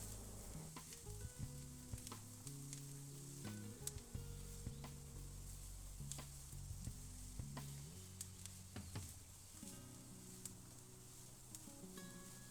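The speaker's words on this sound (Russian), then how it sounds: "Перемешайте и обжаривайте на среднем огне 3 минуты." Mushrooms sizzle steadily in a hot skillet over medium heat while being fried for a stuffed-pepper filling, with a dense continuous crackle and occasional sharp clicks and scrapes from stirring; no voices.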